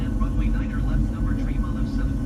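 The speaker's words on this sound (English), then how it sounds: "Alright guys, we're landing. Right now." Inside a Boeing 737 cockpit during landing, a loud, constant low engine and airflow roar fills the space, with a voice talking over the steady drone.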